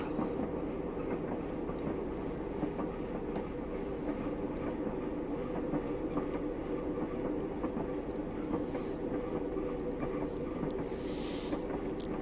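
A Class 111 diesel multiple unit in Train Simulator Classic runs along the Bishop Auckland to Middlesbrough line, producing a steady droning engine rumble with a continuous rolling track hum. The sound holds even and unbroken, with no voices.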